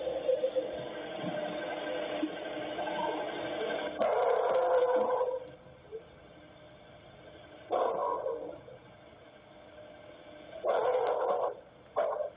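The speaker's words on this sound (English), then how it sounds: "So let's listen to the dog barks here." A dog barks in bursts from a night-time recording, the muffled, distant barks coming in several separated clusters over a steady low hum.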